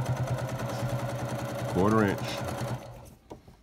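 A sewing machine runs steadily, stitching down the binding on a t-shirt quilt, its fast mechanical rattle continuing beneath a voice before it stops near the end.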